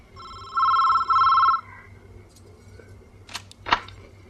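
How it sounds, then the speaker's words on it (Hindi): A telephone bell rings in two loud bursts, followed by a few faint clicks and a sharp tap as the receiver is handled. "चलो फोन उठाओ, फोन उठाओ किरण।"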